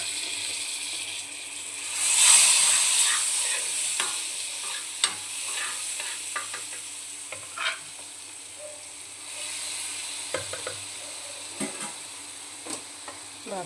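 Prawns sizzle and fry in a pan, with a burst of hissing early on and scattered clinks and scrapes of stirring throughout, close and fairly quiet, with no talking.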